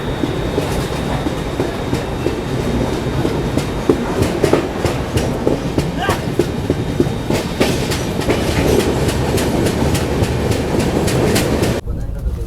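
Mandovi Express pulling out of a Mumbai station alongside a Mumbai local train, a continuous loud rumble with rhythmic clickety-clack of wheels over rail joints, ending abruptly.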